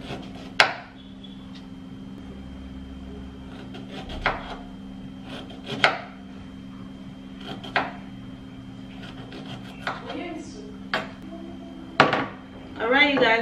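A knife cuts food into pieces on a board, giving scattered sharp chopping knocks spread irregularly over a low kitchen hum, fairly quiet and close.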